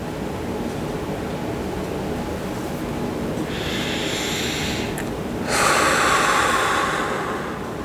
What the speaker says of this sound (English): Take 5 full deep breaths, holding it for a moment at the top and naturally